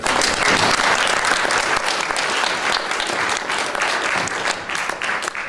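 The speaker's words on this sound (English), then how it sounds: "I'd like to just give a round of applause to our three A" Sustained round of applause from an audience at an evening talk on fluoride, steady dense clapping throughout, loud and close, with no voices over it.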